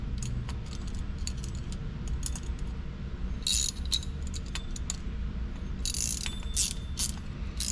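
Small metallic clicks and scraping rattles come from a sprayer wand being screwed onto its handle, close and fairly quiet, with a few brighter clinks.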